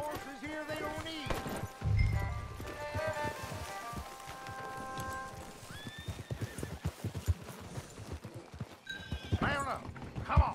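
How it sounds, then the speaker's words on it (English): Horses in the Western video game Red Dead Redemption 2 whinny and snort while hooves clip-clop unevenly nearby, with game dialogue and other voices mixed in. "Mount up. Come on. Get these horses."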